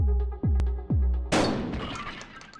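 Shotgun fire in the video game Buckshot Roulette: a few sharp clicks and racking thuds, then one loud booming blast that decays slowly, heard alone without talk.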